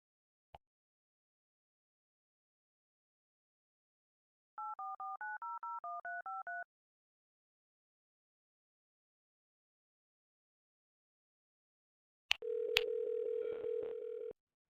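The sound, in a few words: automated bot dialing a telephone, DTMF tones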